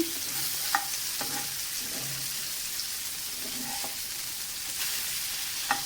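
Pomfret fish pieces frying in a pan, a steady close hiss of hot oil with a few scattered light clicks and scrapes as pieces are turned, no speech.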